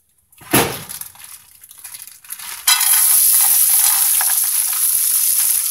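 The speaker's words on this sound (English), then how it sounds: "let's see if we can hear them sizzle" Potatoes drop into hot oil with a clatter, then a loud, steady sizzle of frying fills the rest, close and continuous with no talking.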